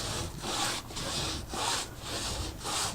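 Paper rubbed like sandpaper across a mixed media artwork background, a steady scratchy rasp in four or five even back-and-forth strokes, close and moderately quiet.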